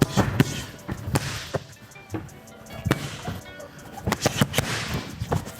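A jump rope whips through double unders in a ring, sharp snaps and slaps landing in quick irregular clusters, close and fairly loud, with faint voices in the background.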